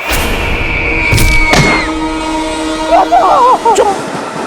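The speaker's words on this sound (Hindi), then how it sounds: "दूसरी ट्रेन आ रही है" A Churchgate-bound Mumbai local train sounds a loud horn and rumbles past close by, with a sharp blast early on, brief squealing tones near the end and steady clatter of wagons throughout.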